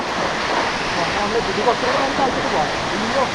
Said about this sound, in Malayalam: 1-2 കിലോമീറ്റർ ഉയരത്തിൽ നിന്ന് വെള്ളം ചാടിക്കൊണ്ടിരിക്കുന്ന കാഴ്ചയാണ് നമ്മളിവിടെ കണ്ടുകൊണ്ടിരിക്കുന്നത്